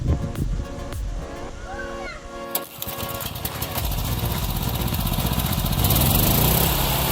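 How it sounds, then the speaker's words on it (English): A homemade stump grinder runs with a loud, steady engine roar and grinding noise that builds over several seconds and grows harsher toward the end, with no clear speech. "This is a homemade stump grinder that works just as well as the store-bought ones."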